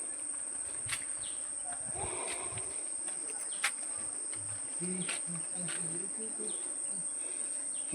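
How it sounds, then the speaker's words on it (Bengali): Crickets and other insects chirp steadily through a wooded forest, with a constant high insect whine and scattered bird calls rising over the background, all fairly faint and distant with no talking. "চারিদিকে জঙ্গল, পাখির ডাক, ঝিঝি পোকার ডাক,"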